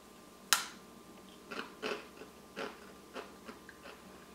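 Someone bites into a salty, egg-shaped wafer snack with a peanut inside, giving one sharp crunch followed by several softer, rhythmic chewing crunches up close in a quiet room.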